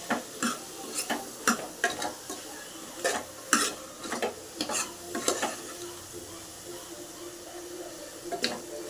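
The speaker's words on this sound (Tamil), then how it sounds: "கொஞ்சம் நல்லா வதக்குங்க எண்ணெயிலேயே." Vegetables sautéing and being stirred in oil in a pan while making sambar with chilli powder added, with a soft steady sizzle and irregular scraping spoon strokes against the pot, fairly quiet and close, no talking.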